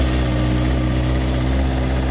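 Steady, loud engine rumble from a 2013 Honda CBR600RR 600cc supersport motorcycle with undertail exhaust, running continuously and close with no start-up transient.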